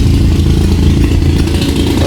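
A motorcycle engine rumbles loud and close for about two seconds on a Philippine street, a steady low mid-frequency drone as it goes by, with a voice heard faintly beneath it.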